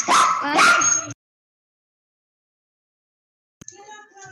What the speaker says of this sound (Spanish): es que mi perro estaba ladrando